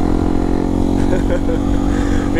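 A motorcycle without a license plate rides along a highway, its engine giving a loud, steady, close drone throughout. Someone speaks over the engine noise.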